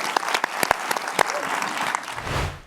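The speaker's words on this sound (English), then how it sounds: "A round of applause." A conference audience at an athletes' panel claps in a brief, dense burst of applause that tapers off within a few seconds.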